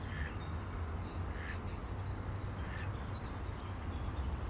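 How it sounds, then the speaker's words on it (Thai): Ducks swimming and playing in a river give repeated short quacks, moderately near, over a steady background of flowing water. "มีแต่คุณเป็ดกาบกาบ เป็ดพินมาเล่นน้ำยี่โขกแล้วเนาะจ้ะเนาะ"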